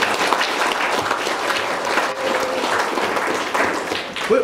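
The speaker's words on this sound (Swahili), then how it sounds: "Hebu tupige makofi." Sustained audience applause at a school ceremony celebrating a top-ranked primary school, a dense, steady wash of many hands clapping throughout, with a brief voice near the end.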